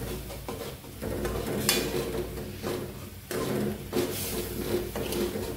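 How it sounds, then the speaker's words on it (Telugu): Bundhi curry thickened with garam masala being stirred in a pan, repeated scraping and clattering strokes of a spoon against metal in a steady rhythm, fairly close. "సో ఇప్పుడు నీట్గా కలుపుకుంటున్నాను."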